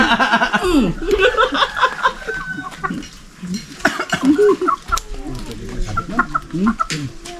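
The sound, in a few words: person imitating a chicken clucking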